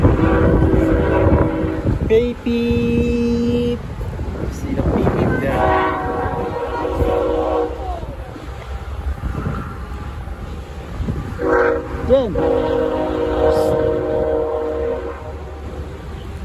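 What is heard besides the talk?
train passing with horn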